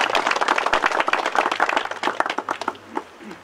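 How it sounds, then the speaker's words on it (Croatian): An audience at a brigade's 30th anniversary commemoration in Kaćuni breaks into loud, close clapping that thins out into scattered individual claps over a few seconds. "Jedan veliki aplauz za naše krajišnike."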